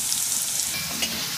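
Potatoes frying in hot oil in a wok, seasoned with a little turmeric, give a steady, close, dense sizzle with no talking over it.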